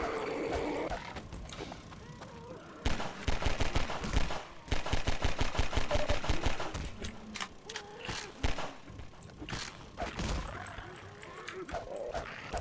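Rapid bursts of gunfire from the video game CoastVille crackle in dense volleys, loud and close, with a quieter stretch before them and scattered shots after.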